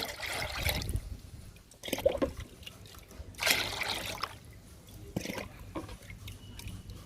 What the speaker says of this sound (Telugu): ఇప్పుడు వాటర్ పోసుకుందాము.